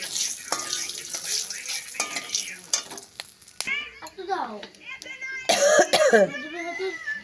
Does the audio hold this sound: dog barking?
no